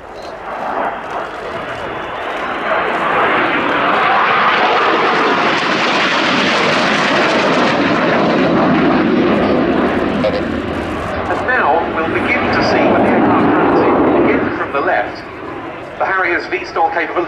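Spanish Navy AV-8B Harrier II Plus jet at an airshow, a loud, sustained roaring jet engine that swells and holds through the pass, with a commentator talking over it.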